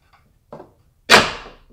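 The rear window of a Jeep Wrangler hardtop seating onto a new gas strut: a soft knock followed by a louder, sharp thud as the glass closes, each close and otherwise quiet.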